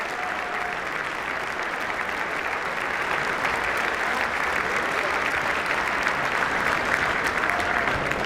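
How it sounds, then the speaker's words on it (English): Sustained applause fills the US House chamber during the Speaker vote, a steady dense roar of many hands clapping at even loudness throughout, with no speech over it. "I think they're applauding right now for"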